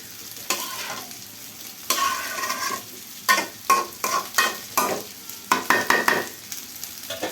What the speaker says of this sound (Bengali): তরকারিটা খুব ভালো করে কিন্তু কষাতে হবে, যেন সবগুলো মশলা প্রতিটা তরকারির গায়ে বা সবজির গায়ে লেগে যায়